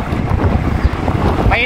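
Wind rushing past while cycling outdoors on a hot, breezy day, loud buffeting roar over the microphone that masks a faint voice in the background.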